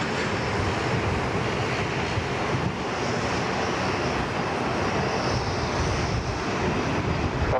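A large airliner departing on Sydney Airport's runway 34 left, a steady, loud jet roar rising and rushing throughout with wind buffeting the microphone and no talk.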